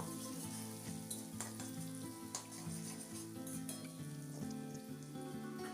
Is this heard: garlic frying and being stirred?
yes